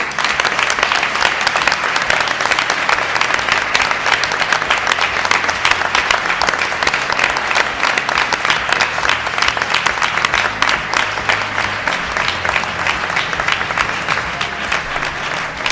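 A large crowd applauding for a long stretch, dense rapid clapping at a constant, loud level throughout with no pauses and no speech over it.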